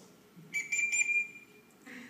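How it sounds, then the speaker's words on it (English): A whistle set inside a housing serves as a mallard drake duck call, blown once in a short, fairly quiet reedy tone lasting about a second, followed by a faint breathy sound. "I figured out that if you breathed a bass note into that whistle inside this housing, it would come out mallard drake"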